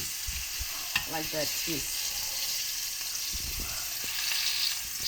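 Fish deep-fries in hot oil with a steady, close sizzle and the scrape of a utensil turning the piece, while people briefly talk over it.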